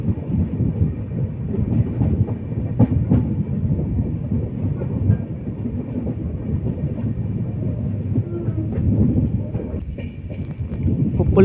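Dharmavaram Express passenger train rolling on rails between Machilipatnam and Vijayawada, a steady loud rumble with rhythmic clickety-clack wheel beats and wind buffeting throughout.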